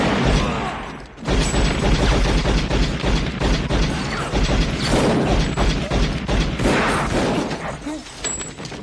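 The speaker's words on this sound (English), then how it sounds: "Each gunshot is thunderous." Gunfire in a room, heavy and thunderous, a dense rapid barrage of booming shots and crashes running almost continuously after a brief pause near the start, loud and close.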